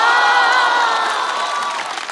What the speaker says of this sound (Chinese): 再次把掌声送给所有的嘉宾朋友